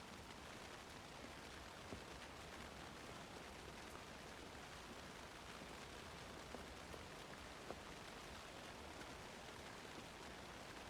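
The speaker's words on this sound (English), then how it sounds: "I always like the rain at night feeling." Steady rain falls at night in the video game Alan Wake 2, a soft, even hiss of drops with occasional faint ticks, continuous and quiet throughout.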